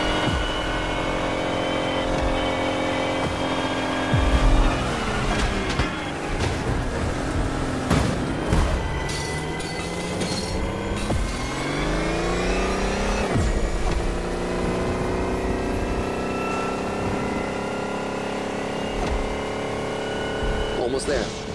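A race car engine in The Crew Motorfest revs hard and accelerates. The loud, layered engine tone sweeps upward in pitch through several gear pulls, with a voice talking over it.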